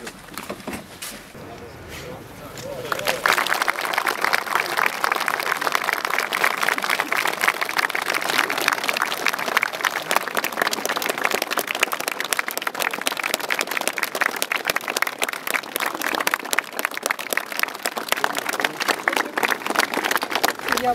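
Audience applause in a gathering in the ATO zone in Ukraine, dense sustained clapping from a crowd that rises after a quiet start and continues loudly to the end.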